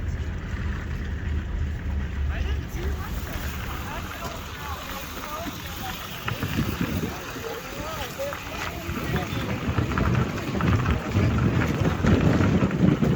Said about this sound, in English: Windy out there, windy.